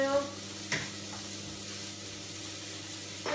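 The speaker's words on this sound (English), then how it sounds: "Right, so while that is done, this is sizzling." Turkey sizzling in sesame oil over high heat, a steady close hiss of frying with a couple of soft utensil knocks and stirring sounds.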